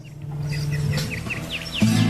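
Small birds chirping: a string of quick, bright chirps at moderate distance over a steady low hum, with no talking.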